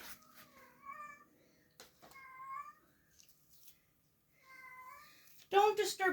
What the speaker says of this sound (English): Pardon my meowing cat in the background, if you can hear her.